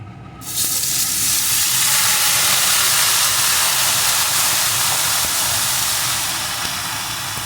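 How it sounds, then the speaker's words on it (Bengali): Eggplant slices coated in salt and turmeric drop into hot oil, bursting into a loud, close, hissing sizzle that holds steady and fades slightly toward the end, with no speech. "এখন সমানে এইভাবে নেড়ে নেড়ে বেগুনটাকে কিছুক্ষণ ভেজে নেব"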